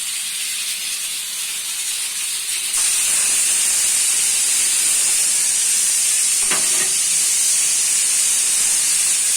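A pressure cooker of boiled chickpeas vents steam after the stove is switched off, a loud, steady, close hiss that swells sharply after a few seconds and then holds a continuous roar without speech.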